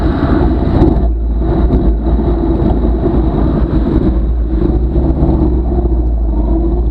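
A car pulls out and accelerates through its first couple of gears, with a loud, steady low engine rumble that holds close and continuous throughout.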